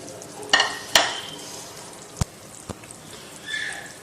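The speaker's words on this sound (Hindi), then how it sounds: "अब हम इसके अंदर शामिल कर देंगे शिमला मिर्च बारीक कटी हुई।" Chopped capsicum gets stirred into a potato curry in a pan, a few sharp spoon knocks against the pan over a soft, quiet sizzle, with no talk.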